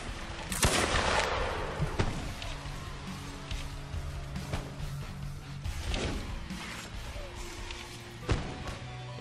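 Musket gunfire in the Mount and Blade: Full Invasion 2 mod, with a sharp loud shot early on and scattered further cracks and thuds over a battlefield din.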